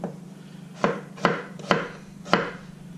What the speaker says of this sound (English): I'm going to go ahead and chop up the eggplant here and take the top of it off. And we're just going to slice it.